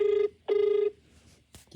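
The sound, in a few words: telephone ringing during a phone call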